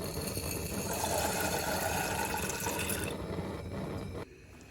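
Dried beans being rinsed after draining, with steady running water splashing loudly into a sink for about four seconds before the flow cuts off and goes quieter.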